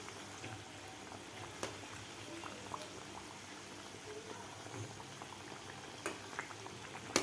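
Onion kachori deep-fry in oil over a medium flame, giving a soft, continuous bubbling sizzle with scattered faint crackles, heard up close at low volume.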